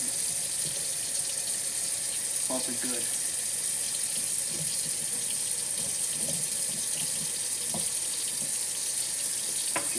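Tap water runs steadily into a kitchen sink while raw chicken is rinsed under it, a constant close hiss with occasional splashes and clinks, and someone speaks briefly over it.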